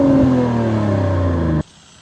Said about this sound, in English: And that's because we have the performance exhaust on this.